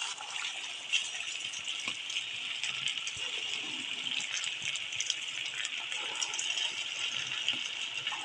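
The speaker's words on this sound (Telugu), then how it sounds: "ఇప్పుడు బోండాలు వేసుకుందాం." Bonda batter dropped into hot frying oil, giving a steady, close, bright sizzle that holds evenly throughout with small crackles and pops scattered on top.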